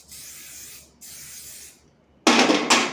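Oil sheen spray misted onto bulk hair extensions in three loud, close hissing bursts, two even ones separated by a short gap, then a brighter, harsher final spray.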